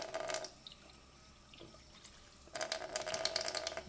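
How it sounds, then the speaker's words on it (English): Water running into a GE MSWF refrigerator water filter, a steady faucet-like rush that drops to a quieter trickle midway, then surges louder again near the end, with no talking. "letting in some water."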